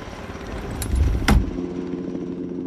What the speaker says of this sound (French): L'hélicoptère prend de l'altitude.